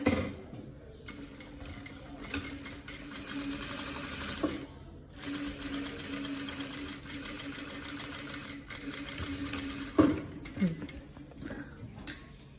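A sewing machine stitches the seam of a boat-neck blouse with sleeves, using a 1 cm seam allowance. It makes a steady, close, rapid mechanical whir with brief stops around midway and near the end, and no talking is heard.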